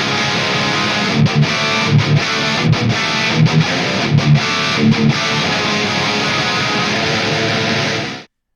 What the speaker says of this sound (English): the guitar tones were my Schecter E1 Apocalypse Red Rain through the ML Sound Lab Amped Icon amp model